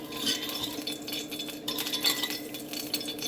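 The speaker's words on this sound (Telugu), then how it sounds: "పెరుగును కొంచెం బీట్ చేసుకొని దానిలో ఉప్పు వేస్తున్నా" Curd beaten in a bowl with salt added for salla pulusu, a buttermilk stew, sounds as quick, irregular clinks and scrapes of a spoon against the bowl, close by, with no voices.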